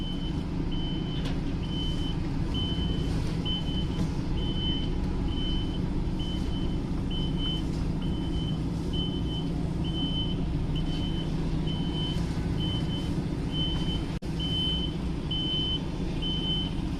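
An HGV truck reversing, its regular reversing beeps repeating steadily over the constant low rumble of the idling diesel engine, with no talk.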